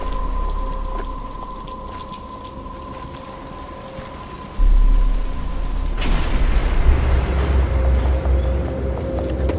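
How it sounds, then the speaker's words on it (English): Rain in the Batman Arkham Asylum video game, a steady hiss of falling rain under a low rumble that swells suddenly midway and stays heavier to the end. "But it's starting to rain."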